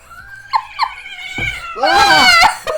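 A cat going crazy, letting out a few short meows that build into a long, loud, wavering caterwaul close by, with no talk over it.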